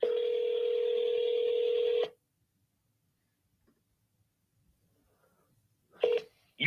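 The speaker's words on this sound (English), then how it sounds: "Let's get him on the phone first." A telephone tone sounds on an outgoing call to a real estate cash buyer or agent: a steady, loud electronic tone holds for about two seconds, then silence, then a short burst of tone returns near the end.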